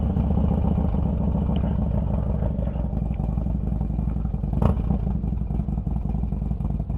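A Harley-Davidson Dyna motorcycle rumbles along on a ride, a steady, loud low engine drone with constant wind and road noise and no breaks.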